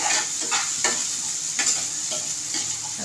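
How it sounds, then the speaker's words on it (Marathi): Two onions frying in oil in a home kitchen pan, a constant loud close sizzle with bright hiss and scattered crackles and stirring scrapes throughout, no voices. "दोन कांदे घेते, चांगले त्याला फ्राय करायचे"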